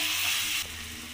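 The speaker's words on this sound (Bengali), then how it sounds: "হলুদটা দিয়ে আমি ভালো করে নাড়িয়ে চাড়িয়ে নেব" Vegetables with turmeric sizzle loudly in a pan as they are stirred, a bright dense frying hiss that drops off sharply partway through, heard close and with no voices.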